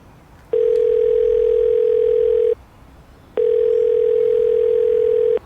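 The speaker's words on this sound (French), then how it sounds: "Je vous appelle au sujet de Monsieur Laperlouse." Telephone dial tone before a call: two long, steady, loud beeps, each about two seconds, separated by a short pause, close and clear with no talk.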